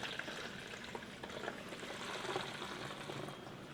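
Wheel and tire cleaner with a thin, water-like viscosity pours steadily into a bottle, a continuous close liquid splash and trickle that holds a fairly even level with no talking.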